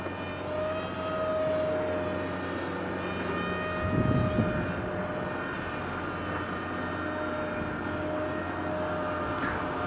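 Sky Surfer V2 RC plane with flaps launched and flying, a steady electric motor whine with a brief swell during launch, continuing at moderate distance over outdoor wind.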